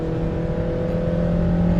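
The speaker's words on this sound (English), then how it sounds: "I like that grunty, throaty sound of the intake and exhaust pipe." A 2025 Honda Amaze four-cylinder petrol engine revs under full throttle with a steady, throaty drone of intake and exhaust that holds loud and close throughout.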